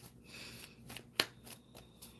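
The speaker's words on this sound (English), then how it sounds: "I'm going to shuffle for March." Tarot cards are shuffled quietly: soft riffling and several faint slaps and ticks, close and low in level, with no talking.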